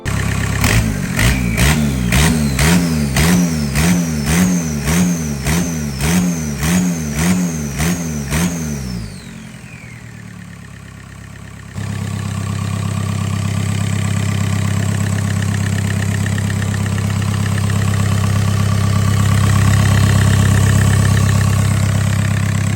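A VW T4 van with a swapped-in PD150 diesel engine cranks over in rhythmic churning pulses, fires up, and then settles into a steady, loud, close idle with a low rumble.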